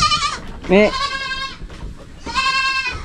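Young goats, offspring of a male breeding goat on a farm, bleat in three distinct harmonic calls close by, with a person speaking around them.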